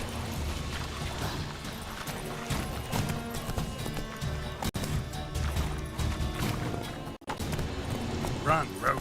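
A horse gallops in The Witcher 3 with steady rapid hoofbeats and clattering thuds, continuous and close, layered with game background sound and a voice talking over it.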